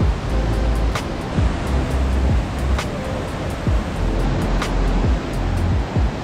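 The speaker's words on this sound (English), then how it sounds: "It's also very, very rainy here now, so we are soaking wet." Heavy rain in Cat Cat Village, a mountain village in Sapa, northern Vietnam: a loud, dense, steady hiss of downpour close by, with scattered sharp drips and taps cutting through.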